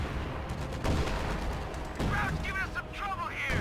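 A Pak anti-tank gun fires at a bulldozer Sherman in Company of Heroes 2, the battle shots and blasts booming under a commentator's speech.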